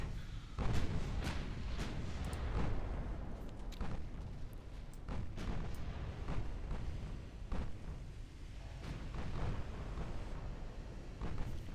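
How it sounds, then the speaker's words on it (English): Warship main guns firing in a naval battle in Ultimate Admiral: Dreadnoughts, a steady run of deep booming salvos and rumbling impacts heard at a distance. "Main guns now on the heavy cruiser."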